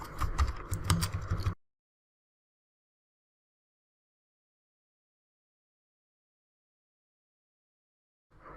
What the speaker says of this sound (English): So type in h2 and click on tab.